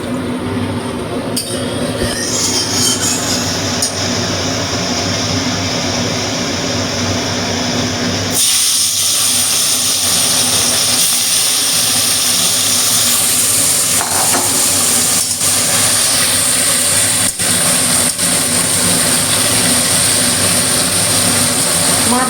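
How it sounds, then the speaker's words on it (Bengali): Kajoli fish frying in a pan gives a loud, steady sizzle that surges in partway through and holds as a continuous hiss, with no talking. "এবার আমি মাছটা ভেজে নেব"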